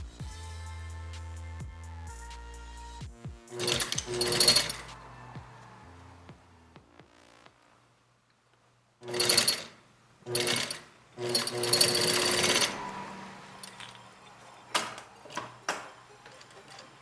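A sewing machine stitches fabric for a ponytail hat in short bursts of rapid mechanical rattling, loud and close, separated by quiet pauses and small clicks.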